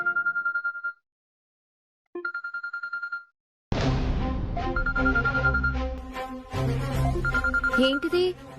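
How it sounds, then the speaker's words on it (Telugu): An incoming video call makes a phone ring with a bright, repeating electronic tone in two bursts and a short silence between them, followed by background music and voices. "ఏకాంబరం పెదనాయన నుంచి వీడియో కాల్ వస్తోంది"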